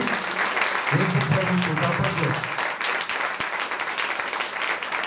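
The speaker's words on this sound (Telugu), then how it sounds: "సంతోషంగా ఉన్న వారందరూ చప్పట్లు కొట్టండి." A congregation claps together at the opening of a new church in Karnikapalem, giving a dense, sustained wash of applause with voices mixed in that fades slightly toward the end.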